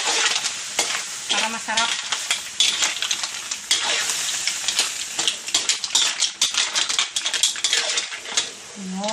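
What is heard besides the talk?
butter frying in a pan with seafood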